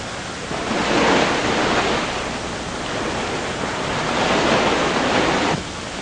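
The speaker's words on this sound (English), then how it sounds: "Oh, that's the sea. This tunnel runs very close to the shoreline here." Sea waves wash against a shoreline, heard from inside a tunnel that runs close beside it. A continuous, loud roar of surf swells and eases in slow surges, with no voices over it.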